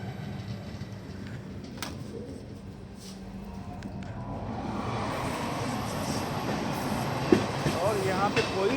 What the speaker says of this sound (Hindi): और यहाँ पे कोई तो एक्सप्रेस ट्रेन पास हो रही है।